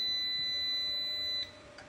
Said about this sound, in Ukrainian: ось зараз вона знову пищить